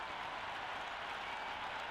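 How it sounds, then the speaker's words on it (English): Spectators at a Zimbabwe versus West Indies World Cup cricket match cheer and clap before the first ball, a continuous, even roar of the crowd heard at some distance with no break. "The crowd are making a heck of a lot of noise even before the first ball's been bowled"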